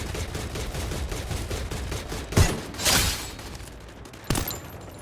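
Gunfire in a video game match, with rapid bursts of shots and a few louder single bangs, fairly close and moderately loud.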